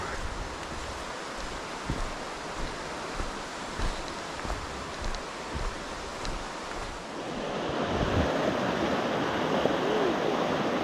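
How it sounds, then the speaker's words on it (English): A rushing brook in Clarendon Gorge, Vermont, pours steadily as a broad, hissing wash of water heard from a ridge between two streams, with faint footsteps and a rise in the flow's loudness near the end. "So we get the rushing brook in stereo."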